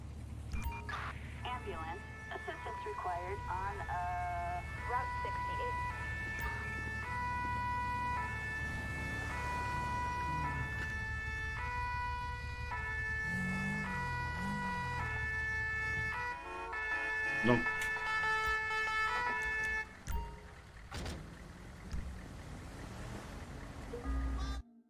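An ambulance siren wails in GTA V, a loud cycling electronic tone that runs continuously for most of the stretch before stopping, with someone talking over it and ocean surf in the background.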